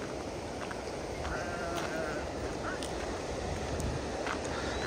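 Sheep and small lambs bleat repeatedly beside a dam reservoir on a hot day, several animals calling over a steady outdoor wash of noise.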